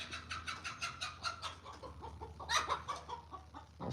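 Chickens on a ranch clucking and squawking loudly near the barn, a rapid run of repeated calls followed by a sharper burst of hollering, with no talk.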